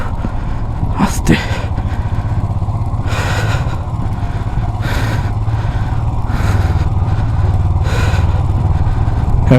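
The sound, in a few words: motorcycle riding slowly in first gear on mountain road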